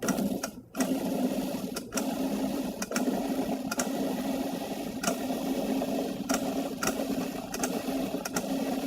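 A food processor pulses fruit and vegetables for soup, its motor whirring in a steady mechanical buzz broken by short bursts and brief pauses, close and moderately loud, with no talking.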